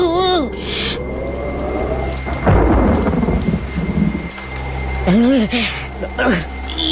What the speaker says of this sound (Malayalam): ദേ പിന്നെയും മഴ